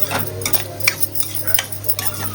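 A spoon stirs ginger-garlic paste with vegetables in a pan while making a veg cheese frankie, giving repeated close scraping strokes at an uneven rhythm over a steady low hum, with no talking.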